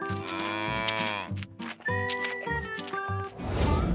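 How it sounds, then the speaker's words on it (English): Cattle and buffalo lowing and calling in a cartoon setting, several drawn-out harmonic moos close by, one after another, with a rougher noisy burst at the end. "the cow family is here"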